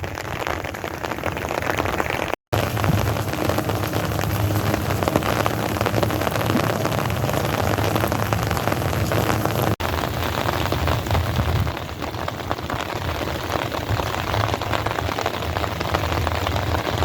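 Steady rain falls in the desert during Tropical Storm Alvin, a dense, continuous hiss of drops on the ground that stays loud and even throughout, with one brief dropout near the start.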